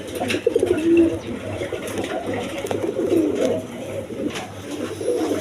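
Pigeons in a loft coo repeatedly and loudly in overlapping throaty calls, a continuous flock chorus close by, with low background noise throughout.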